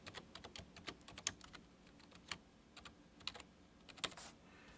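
Typing on a computer keyboard to enter an administrator password during a Windows NT 4 install on a Gateway 2000 G6-200 PC, with quiet, irregular key clicks and a few sharper keystrokes spread across a few seconds.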